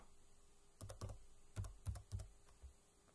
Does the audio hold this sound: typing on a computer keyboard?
yes